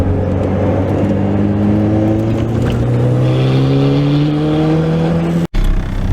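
A Honda Prelude engine fitted with a new turbo runs loud and close, its revs climbing steadily, before a sudden brief dropout near the end.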